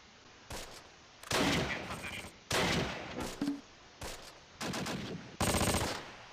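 Machine gun fire in the WWII strategy game Close Combat: Last Stand Arnhem: several loud, sharp bursts of rapid automatic shots separated by short gaps, with a faint background hum between them.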